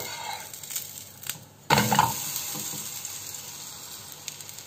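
A semolina cheese toast flipped in hot oil bursts into a sudden loud sizzle, then settles into a steady, softer crackle that fades slowly.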